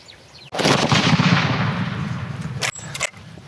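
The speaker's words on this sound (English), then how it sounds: "You've got time to squeeze the shot off." A single hunting rifle shot on a Zimbabwe safari cracks out loud and close, then a long echoing boom decays over the next seconds, followed by a couple of sharp mechanical clicks as the rifle is worked.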